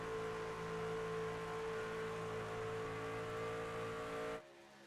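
Race truck engines held at full throttle in an iRacing stock-truck series event, a steady droning whine from a close onboard perspective that holds even for several seconds, then cuts abruptly to a quieter, thinner tone near the end.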